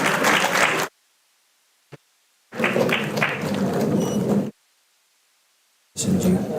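A conference audience applauds in bursts: a sustained round of clapping, a single thump, another longer burst, and a final round starting at the end, all fairly close and loud.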